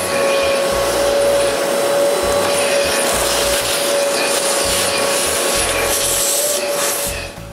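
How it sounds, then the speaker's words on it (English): A vacuum cleaner draws loose sawdust out of a table saw that has gathered dust inside for three years, a steady loud broadband whoosh with scraping and rubbing of the nozzle throughout. "The first thing to do is to vacuum all the loose dust from it"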